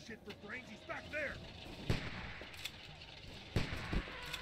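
Gunfire in the video game Telltale's The Walking Dead, a few sharp isolated shots spaced out over the scene, with short voice fragments and game sound underneath.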